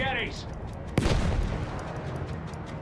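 Gunfire from a World War I battle in Battlefield 1, a sharp loud burst near the one-second mark followed by a rumbling, crackling wash of shots and explosions, with a brief whine at the start.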